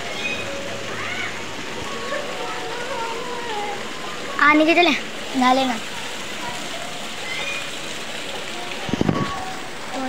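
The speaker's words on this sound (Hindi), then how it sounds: "तेज बारिश हो रही है।" Heavy rain pours steadily as a constant broadband hiss throughout, with voices talking briefly over it in the middle and a short bump near the end.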